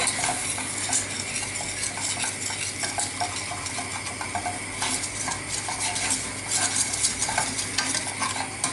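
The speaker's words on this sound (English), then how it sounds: "Whisk." A metal whisk stirs flour into melted butter in a pan for a white sauce for macaroni cheese. The brisk, steady scraping and clicking continues alongside a soft sizzle, with no talking.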